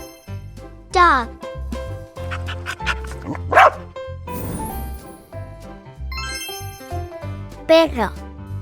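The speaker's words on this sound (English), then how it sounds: "Dog." A dog barks a few times with bright, sharp yips set among cheerful background music in a children's pets vocabulary lesson.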